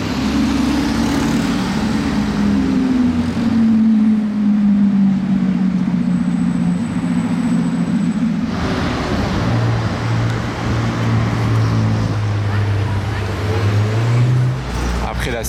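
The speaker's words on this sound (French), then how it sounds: "Ça doit être une Lambo V12 ça." A Lamborghini V12 sports car roars along a Monaco street, its loud engine drone sliding down in pitch, then rising again as it passes close amid traffic noise.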